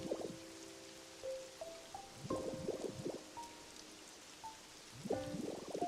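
Rain in the Pokopia video game makes a soft continuous patter beneath gentle chiming game music notes that rise and fall in short phrases.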